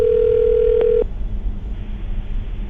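A steady telephone dial tone sounds loud and close for about a second, then cuts off, leaving a low background hiss while a call to a radio listener is placed.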